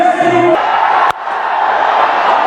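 A cricket crowd at a Nepal vs Italy T20 World Cup match roars in a loud, sustained appeal that swells, dips briefly and carries on.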